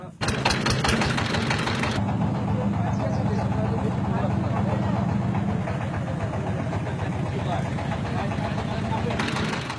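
A boat engine on a wetland beel starts up and runs loud and steady with a rapid mechanical chatter, close by, a low throbbing hum holding for nearly ten seconds as voices talk faintly underneath.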